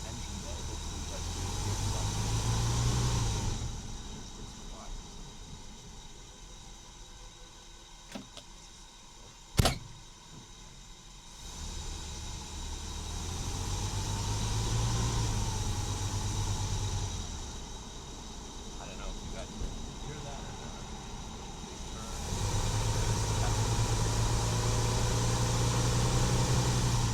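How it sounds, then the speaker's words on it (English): A 1965 Buick Riviera V8 idles, picked up by a microphone in the engine bay: a steady, quiet low rumble that swells and eases several times, with one sharp click partway through. "yeah, certainly quiet old V8 over there."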